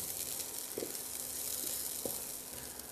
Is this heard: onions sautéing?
yes